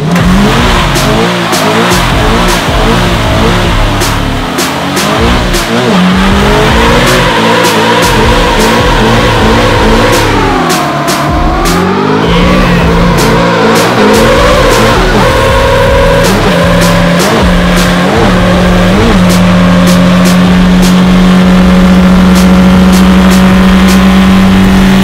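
A swapped-engine drift car doing a burnout, the motor revving hard and holding high rpm while tires squeal and skid continuously, very loud and close with no talking.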